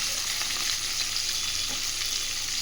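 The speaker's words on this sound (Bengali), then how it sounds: "টমেটো, সব এগুলো খুব ভালোভাবে একটু আমি ভেজে নেব" Chopped onion, garlic, ginger, green chilli, dried chilli and tomato frying in hot oil in a pan, a dense, steady hiss of sizzling, close and continuous, with no speech.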